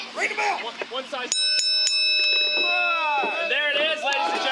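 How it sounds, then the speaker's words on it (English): The bell at ringside starts a wrestling match at the XCW Ignition 2017 main event. Several sharp, ringing clangs follow one another quickly over crowd noise and voices. "Ring the bell."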